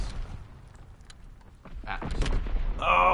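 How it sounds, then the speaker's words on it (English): Gunfire and explosions from Call of Duty WW2 Infected mode, a few dull distant booms and bursts building to louder blasts near the end, with players talking over them. "Why are there explosions?"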